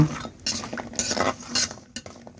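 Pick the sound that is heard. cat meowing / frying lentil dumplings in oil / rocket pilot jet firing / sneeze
frying lentil dumplings in oil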